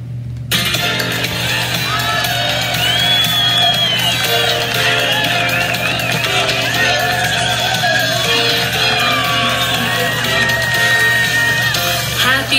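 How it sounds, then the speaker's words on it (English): A crowd of students in a school setting sing happy birthday together, a loud sustained chorus of many voices with yells and whoops mixed in, continuous for about twelve seconds. "Clap along to happy birthday."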